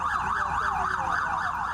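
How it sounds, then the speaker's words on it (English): A police siren wails, rising and falling continuously in a steady, loud cycle, with low traffic rumble underneath and no speech. "They kept blowing their sirens."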